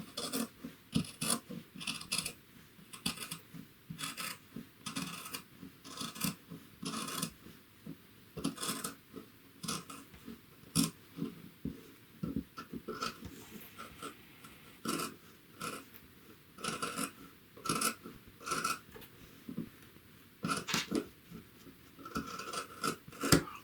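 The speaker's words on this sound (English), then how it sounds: "I'm just trimming this down to about 3/8." Scissors trim a fabric seam allowance on muslin and contrast fabric, making slow, repeated crisp snips and rasping cuts, close and fairly quiet, with no talk.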